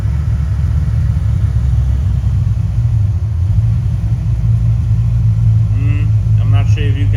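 An Audi RS4 with a broken spark plug and failing catalytic converters rolls into a workshop, its engine a steady, close, low rumble throughout, with faint voices near the end.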